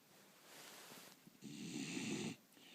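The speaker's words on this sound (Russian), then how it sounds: "Ну хватит храпеть" A pet snoring at close range, with a soft drawn-out inhale followed by a louder, rougher rasping breath, then quiet.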